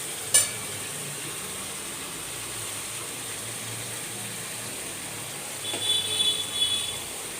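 A hot pan of fish curry masala fries with a constant soft sizzle, and water is poured in with a brief splash early on and a livelier bubbling hiss near the end. It sits close and moderately quiet, with no voices.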